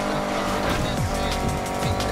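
A car in Need for Speed Heat, driven with a racing wheel, drifts with continuous engine roar and repeated tire squeals sliding in pitch, loud and unbroken throughout.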